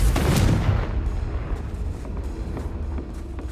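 A Confringo blasting spell explodes in the Hogwarts Legacy video game, a loud, close boom that hits at once and rumbles and decays over a few seconds.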